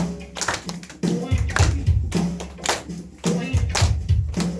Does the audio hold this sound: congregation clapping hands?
yes